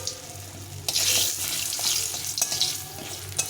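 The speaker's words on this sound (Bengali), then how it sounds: "আমি প্রথমে বড়িগুলোকে একটু ভেজে নেব" Lentil dumplings (bori) frying in hot oil in a heated pan for a spinach dish, a close, steady hiss that swells loudly after the first second, with brief stirring clatter and no voices.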